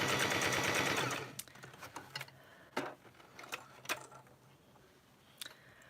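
A domestic sewing machine runs fast with a dense, rapid stitching rattle for about a second, then stops, followed by scattered clicks and small handling knocks.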